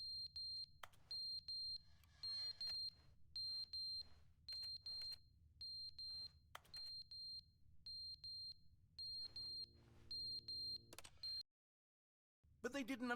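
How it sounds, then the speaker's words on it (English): Repeated electronic beeping alarm from a smoke detector in The Stanley Parable, sounding in regular short bursts over a low background hum, moderately loud, with a brief silence near the end before other game sound resumes. "What's the beeping?"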